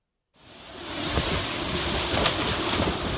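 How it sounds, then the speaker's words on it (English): Hurricane Michael's wind roars in a steady, loud broadband rush that starts abruptly and keeps blowing without a break, buffeting the microphone. "And just listen to that wind there."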